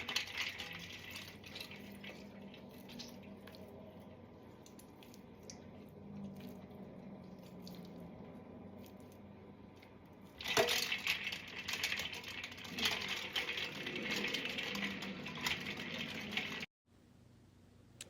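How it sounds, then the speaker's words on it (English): Fresh homemade butter is kneaded by hand in an ice bath, giving close, faint squishing and wet handling sounds that grow louder and splashier partway through before cutting off abruptly. "putting my hands in this ice bath is really not what I want to do on a cold day in January"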